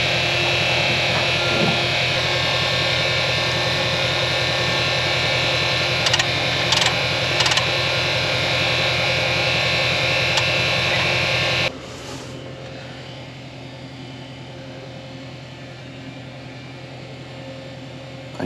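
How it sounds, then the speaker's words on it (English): Steady mechanical whir of a fuel pump filling a farm tractor during harvest, loud and continuous with a few brief clicks, then dropping abruptly to a quieter hum as the flow stops partway through. "Gotta put some fuel in this tractor."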